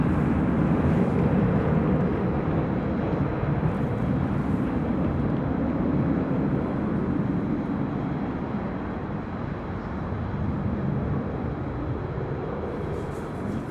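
An American Airlines Boeing 787-8 Dreamliner departing LAX gives a broad, steady roar of jet engines heard from a distance, with wind buffeting the microphone and a faint hiss.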